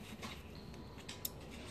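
Scissors snipping through kinesiology tape during a horse stifle taping session, a few quiet, close cuts with small sharp clicks over a faint room hiss.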